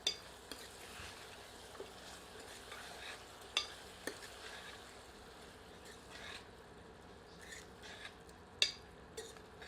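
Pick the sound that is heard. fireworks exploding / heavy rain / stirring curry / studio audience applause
stirring curry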